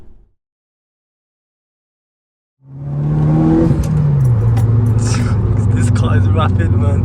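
A Mitsubishi Colt's engine on a drive in wet British weather cuts in after several seconds of silence, then holds a loud, steady, low droning note, with people talking over it.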